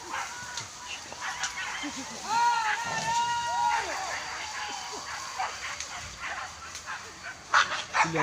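A dog barks and yelps in short bursts amid people talking and general outdoor commotion nearby.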